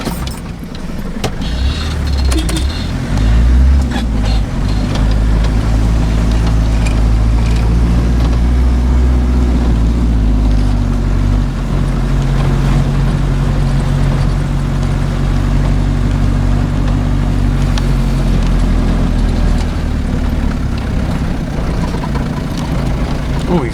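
Forage harvester driving during the maize harvest, a loud continuous low engine drone with shifting mechanical tones from inside the cab, while someone talks over it.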